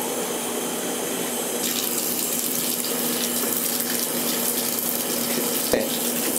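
Tap water running steadily into a bottle in a bathtub, a continuous close hiss and splash that carries on unbroken with one small knock near the end.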